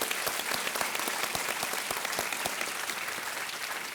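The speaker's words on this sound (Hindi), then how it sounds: "तालियों के साथ इनका अभिनंदन किया जाए" A studio audience on a Hindi quiz show applauds, the clapping dense and steady throughout with sharp individual claps standing out, fading slightly toward the end.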